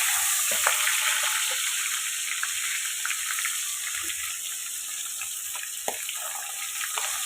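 Pabda fish roe dropped into hot oil gives a steady, moderately quiet hiss and crackle with a few sharp pops, and no voices.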